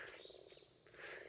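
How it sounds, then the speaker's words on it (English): Frogs at a pond near a mountain trail croak in a rapid, rhythmic chorus, faint and steady throughout with no talking. "I was really wondering what all this strange sound is, but it's all the frogs here"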